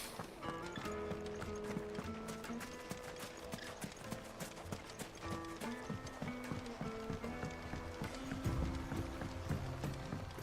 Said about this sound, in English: Let's get the old trusty steed.